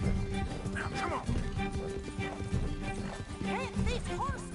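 Rapid hoofbeats of a galloping horse in Red Dead Redemption 2 pound steadily under game music and effects, with a few rising whinny-like tones toward the end.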